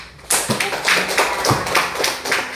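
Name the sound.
class clapping hands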